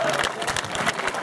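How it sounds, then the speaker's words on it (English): Audience applause for football star Jerry Rice at a talk-story event in Hawaii, a brief burst of scattered clapping with crowd noise. "can we get another round of applause for Jerry Rush?"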